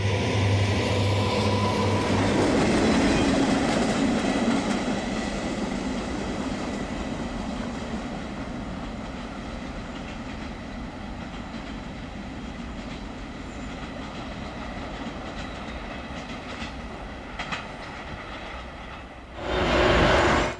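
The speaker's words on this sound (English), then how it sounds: "The Richmond Road Switcher rolls through Pinole heading east." The Santa Fe Richmond Road Switcher rolls eastbound through Pinole, a steady rumble of wheels and cars that slowly eases off, ending in a short louder burst.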